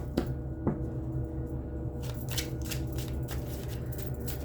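A tarot card deck shuffled by hand at close range, with a steady run of soft riffling and brushing strokes and a few sharper card taps.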